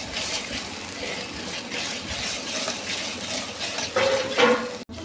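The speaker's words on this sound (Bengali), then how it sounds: "সব কিছুটা খুব ভালো করে মিক্স করে কষিয়ে নেবো" Ginger garlic paste fried with spices in a pan, giving a moderate sizzle with irregular stirring scrapes and a few sharper clinks of utensil on metal near the end.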